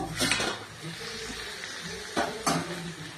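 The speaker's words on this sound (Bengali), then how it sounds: "এবার আমি ঢাকনাটা তুলে নেব।" A lid lifted off a cooking pot on a kitchen stove: two sharp metallic clanks of lid against pot rim, close and loud, with quiet sizzling and soft kitchen noise in between.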